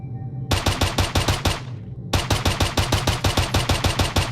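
Rapid gunfire from an SMG and a lever-action rifle in the video game Pigface: dense bursts of evenly spaced shots, a brief pause, then another steady run of loud, punchy reports.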